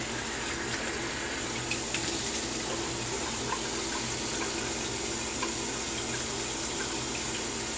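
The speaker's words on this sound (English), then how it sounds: "Turn on the cold water here." Cold water runs steadily from a tap into a sink during a shave, a continuous, even hiss and splash that stays close and unbroken with no talking.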